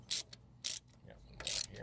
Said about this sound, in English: Then you go back with a ratchet and you tighten them up to they're nice and snug.